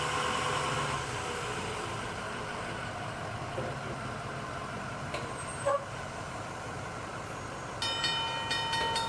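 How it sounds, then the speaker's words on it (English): A train rolls toward a railroad crossing with a steady loud rumble throughout, brief toots near the middle, and a sharper horn-like tonal burst near the end. "There's a train on the railroad tracks."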